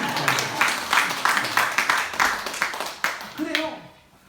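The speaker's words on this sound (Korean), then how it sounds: "박수 한번 쳐주셔야죠" A church audience at a sermon claps in a rhythmic series of bursts, fairly close and lively, with a voice briefly audible as the applause tapers off.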